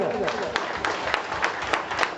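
A crowd applauds with steady, dense clapping, a few sharper claps standing out from the general patter.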